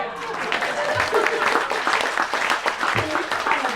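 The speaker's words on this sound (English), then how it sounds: "I just want everybody to clap again." An audience claps steadily in sustained applause, a dense patter of many hands close by.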